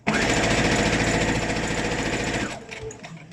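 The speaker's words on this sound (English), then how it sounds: "make sure you back stitch a couple of times to keep it in place" A sewing machine back stitches elastic into a homemade fabric face mask, its dense, steady mechanical whir running loud and close for about two and a half seconds before slowing and stopping into quieter handling.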